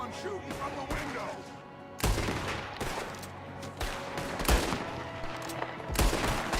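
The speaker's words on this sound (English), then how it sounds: "There's another one shooting from the window." Rapid bursts of gunfire in the Red Dead Redemption 2 video game, with sharp cracks and volleys repeating in an uneven rhythm amid a busy shootout.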